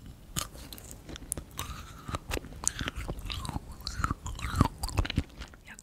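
Close, crisp crunching bites of kohakutou, a Japanese jewel jelly candy with a sugary crust, in an irregular run of sharp cracks and chewing sounds, with no talking.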